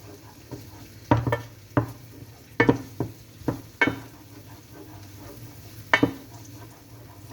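Garlic frying in a pan on a home stove, with several sharp clinks of a utensil against the pan over a low background sizzle, spaced irregularly.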